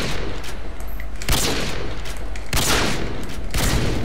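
Modern Warfare 2 gunfire: sharp, loud sniper shots crack out about three times at roughly one-second gaps over a continuous backdrop of battle noise.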